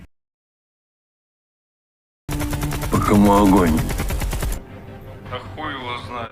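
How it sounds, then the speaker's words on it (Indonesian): Silence at first, then a sudden burst of rapid, dense machine gun fire with shouting voices mixed in, easing into quieter rattling and talk, in a war film scene. "Dengan aba-aba dan tembakan senjata mesin"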